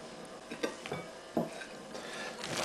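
Beef mince being mixed by hand in a bowl for homemade burgers, soft scattered squelches and dull knocks against the bowl at an irregular pace, close and fairly quiet.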